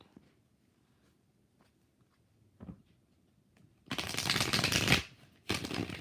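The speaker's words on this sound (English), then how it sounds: "Three more shuffles." Tarot cards shuffle in a few quick bursts, soft riffling and rustling after a quiet start with faint handling noises, the last two shuffles loud and close.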